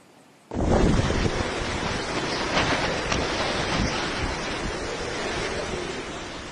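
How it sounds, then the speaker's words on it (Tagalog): Typhoon Paulo in Dinapigue, Isabela: heavy rain and strong wind tossing trees, a sudden loud, continuous roaring rush that stays dense and steady without letup. "Sabay sa malakas na buhos ng ulan, ang hangin tila nagpasayaw sa mga puno sa Dinapigue, Isabela"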